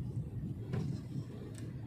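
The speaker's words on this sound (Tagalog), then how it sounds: "Monday traffic." Monday road traffic in Naga City, a low steady rumble of engines with faint swells as vehicles move nearby, no voices.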